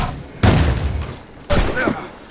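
Two loud, booming gunshots about a second apart in the video game Assassin's Creed Rogue, each followed by a short decaying rumble, with brief voice sounds mixed in.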